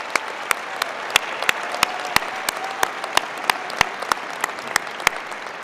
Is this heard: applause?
yes